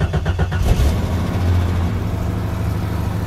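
Cold start of a 1989 Jeep Cherokee with a Renix engine: a brief cranking chatter, then the engine catches and settles into a loud, rough, uneven idle close to the listener.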